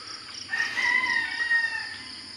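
A rooster crows once at a chicken farm in Aluminos, Laguna, a drawn-out call that carries clearly above a steady background hum, with no talking.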